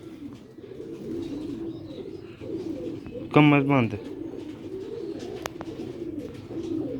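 Pigeons at a rooftop loft in Sialkot give one short, loud burst of cooing near the middle, over steady background noise and someone talking.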